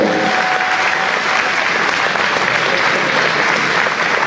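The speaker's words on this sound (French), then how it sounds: "Je vous demande d'applaudir Mélissandre Première." A crowd at a town festival in Cavaillon applauds the crowning of the town's queen, dense, loud, sustained clapping that fills the whole stretch.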